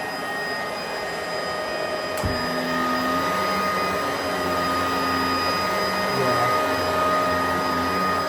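A Bissell upright vacuum cleaner running on carpet, a loud steady motor drone with a sharp click as it switches on and a rising, shifting hum as it is pushed, close and continuous.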